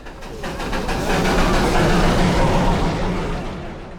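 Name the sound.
Darjeeling toy train passing near Ghum war memorial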